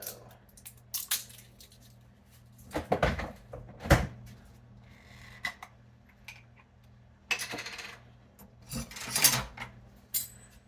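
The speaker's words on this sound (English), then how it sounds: "I forgot to open the jar first." A glass jar of sun-dried tomatoes being opened in a kitchen, with close clinks, scrapes and a few sharp knocks spread across the clip amid quiet stretches.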